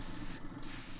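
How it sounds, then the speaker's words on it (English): Colored liquid sprayed in layers onto conductive solar concrete, a steady broadband hiss with no talk that briefly cuts out midway before resuming. "the scientists spray on various layers of colored liquid"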